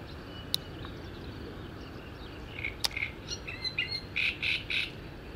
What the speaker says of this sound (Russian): Птица какая-то сидит.